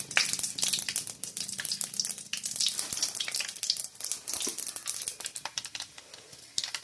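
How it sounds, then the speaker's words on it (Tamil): Mustard seeds and urad dal frying in plenty of hot oil, a dense continuous crackle of sputtering pops and sizzle, close and steady throughout with no talking. "இது கொஞ்சம் எண்ணெய் நிறைய இருந்தால் தான் நல்லாயிருக்கும். எண்ணெய் போட்டேன். கடுகு,"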